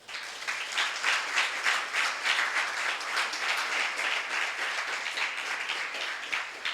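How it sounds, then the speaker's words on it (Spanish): A congregation in a church service applauds steadily with sustained, dense clapping that fills the whole stretch at moderate loudness, with no speech over it. "Le damos un aplauso al Señor."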